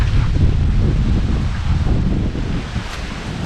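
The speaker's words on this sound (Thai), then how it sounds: "ลมนี่แห้งเลยครับส่วนมันอากาศหนาว" Dry, cold wind blows steadily through an old rural village in Khammouane province, Laos, buffeting the microphone with a loud, continuous rumble and rustle, without any talking.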